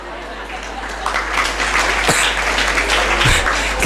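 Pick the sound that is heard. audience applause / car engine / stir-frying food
audience applause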